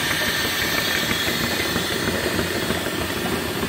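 A trailer-mounted steam engine and boiler idles at low RPM, giving a steady, close chugging hiss with soft knocking beats.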